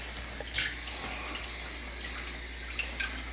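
Cold tap water runs steadily into a sink to rinse a cured fish fillet, a constant close hiss with a few brief splashes as the fish is handled.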